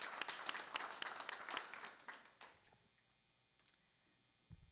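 Applause at a town council meeting in Westmoreland County, Virginia: a faint, small-group round of clapping that fades out after a couple of seconds, leaving near-quiet room tone.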